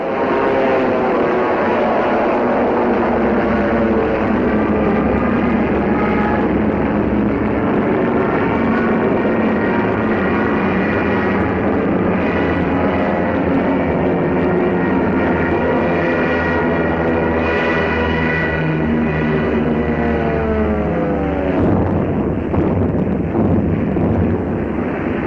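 Piston aircraft engines of WWII fighters and bombers drone steadily over the English Channel, a loud continuous layered roar with wind rush, holding for the whole stretch without pause.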